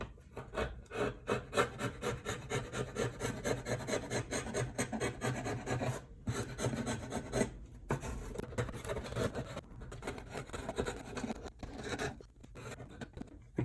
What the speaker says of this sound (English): I'm gonna be abusing my chisels here. Be trying to scrape off some of this stuff.